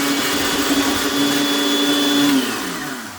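A blender purees spinach and herb artichoke dip, a loud, steady motor whine that holds for about two seconds and then winds down as the motor slows.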